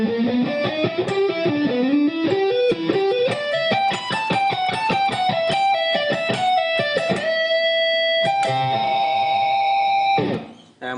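A slow pentatonic lick on an electric guitar with light distortion, with single notes climbing step by step, then a held bend and sustained ringing notes, loud and clear with no talking.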